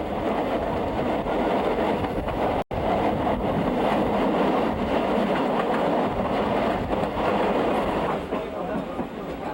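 A train carrying soldiers of a South Korean military unit rolls along the railway with a steady, close rumble and rattling clatter that runs throughout, broken only by one split-second gap.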